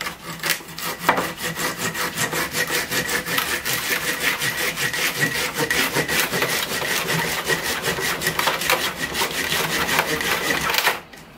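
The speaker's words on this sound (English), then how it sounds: "I'm going to try sawing the bottom off here" A hand saw cuts through the soil-packed bottom of a water jasmine bonsai's root ball in rapid, even back-and-forth strokes, close and loud, continuing steadily before stopping abruptly.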